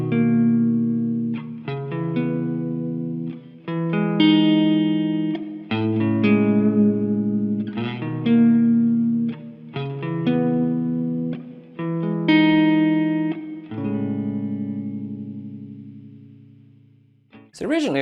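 Electric guitar chords, including a borrowed chord, strummed one after another with effects and reverb in a math rock style, each ringing out before the next, in a slow steady progression.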